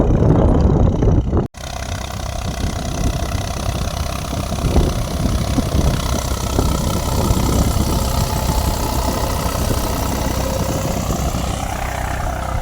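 A farm tractor drags a long, heavy cement field leveller across a sowing field, its engine running at a steady, continuous drone close by after a brief cut near the start.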